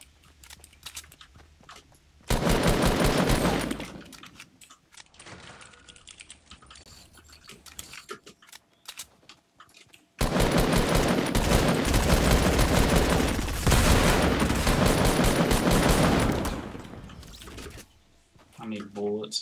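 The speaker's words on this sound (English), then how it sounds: "I literally just started shooting the wall to be able to break" Rapid gunfire in Fortnite as a player shoots at a wall to break through, two long loud bursts of continuous shots separated by quieter moments with talk.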